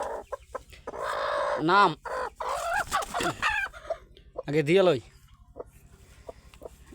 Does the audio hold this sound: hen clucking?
yes